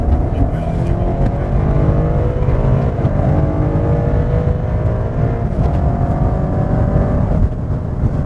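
A BMW M5 with stability control switched off, running in rear-wheel drive, drives a race circuit; its engine drones close and loud with a smoothly climbing pitch as it accelerates, under steady road and cabin noise.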